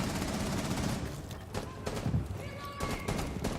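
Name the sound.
gunfire in video game Rainbow Six Siege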